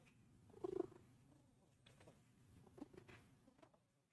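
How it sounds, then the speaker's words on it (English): A cat's soft, low purr hums quietly and close by, with a few faint rustles and light taps mixed in. "Can you hear Chud purring?"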